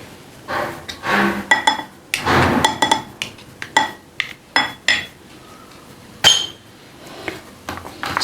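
A spoon mixes shawarma paste with a teaspoon of mustard paste in a bowl, making sharp, uneven metallic clinks and scrapes against the bowl. The strikes come in quick bursts close to the listener, with short pauses between them.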